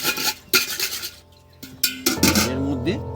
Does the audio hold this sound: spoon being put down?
yes